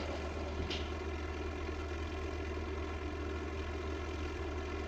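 Propeller plane engine in a video game during takeoff, a steady droning hum with a constant tonal whine, holding even throughout with no talking.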